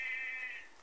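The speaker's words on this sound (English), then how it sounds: "Lots of sheep around" A single drawn-out sheep bleat from a field at dusk, fairly clear and steady, then fading toward the end with no talk over it.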